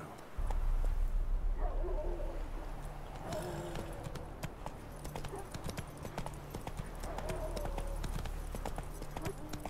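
Horse hooves clip-clop at a slow walk in The Witcher 3: Wild Hunt, a steady close rhythm of hoofbeats over low ambient game sound, with faint murmuring voices in the background.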